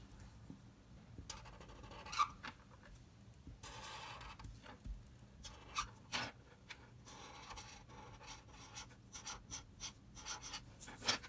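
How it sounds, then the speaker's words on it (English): Marker drawing over lettering on paper for an art project, soft scratchy strokes and squeaks in short bursts, close and quiet, with no talking. "I'm just going to go over that with a marker once I like the way it looks."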